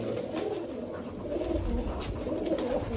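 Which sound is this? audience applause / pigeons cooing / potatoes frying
pigeons cooing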